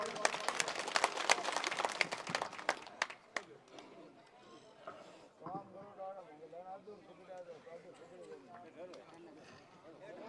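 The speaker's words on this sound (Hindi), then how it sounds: "जोरदार तालियों से स्वागत।" A village welcome gathering in Bagsara, Sujangarh, where a crowd claps loudly in a burst of applause that fades after a few seconds into murmuring voices and talk.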